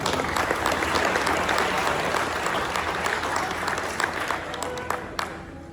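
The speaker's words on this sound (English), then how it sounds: "Everybody give a big round of applause for Anna." A neighborhood alliance meeting audience gives a candidate a full round of applause, dense, even clapping from many hands that holds steady and tapers slightly at the end.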